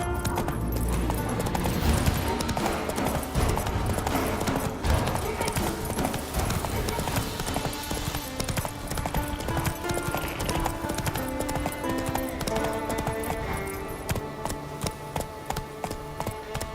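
Roach, the horse in The Witcher 3 on Skellige, gallops with a fast, driving clatter of hooves, mixed loudly with dense game music throughout.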